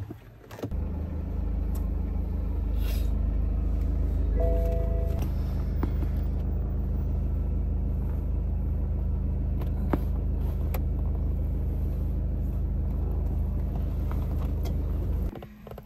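A car engine drones steadily from inside the cabin on a drive to get an X-ray, a low, continuous road rumble with occasional clicks and thumps.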